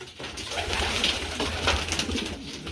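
A racing pigeon cock, a Herman Kuster cross Beaverdam Johnson, coos in a soft, close, rolling series of throaty calls, with no talk over it.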